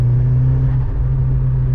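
Ford Escort RS Cosworth turbo engine pulling under load, a loud close steady drone with a strong low hum and no voices.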